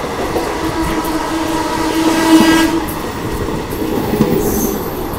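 Santragachi Puri special train rolling by with a loud horn blast in the middle, wheels clattering and squealing around it, no voices.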